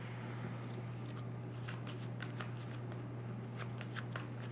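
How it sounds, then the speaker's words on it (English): Playing cards are drawn and flicked from a deck during a tabletop board game, a run of quiet crisp card snaps and slides at close range over a steady low electrical hum. "We're going to draw cards."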